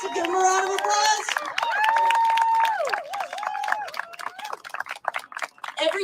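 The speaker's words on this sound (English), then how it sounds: "Give them a round of applause." A rally crowd at a political event against a council member's recall cheers and whoops, then breaks into scattered clapping. The voices are loud and close, and the applause is lighter and uneven.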